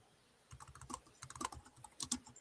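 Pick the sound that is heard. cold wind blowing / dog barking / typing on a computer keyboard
typing on a computer keyboard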